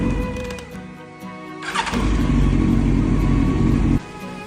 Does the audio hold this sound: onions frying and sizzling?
no